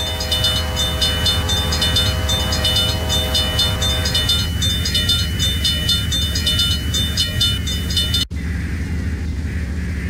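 A train in the video game Trainz 12 rumbles past with a steady clattering roll and high tonal squeal, loud and continuous, cutting abruptly near the end to a duller rumble.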